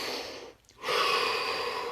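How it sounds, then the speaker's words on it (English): A single slow, audible breath drawn in and released during a calm guided meditation session, a soft airy whoosh following a short quiet pause, close and alone. "Take a deep breath"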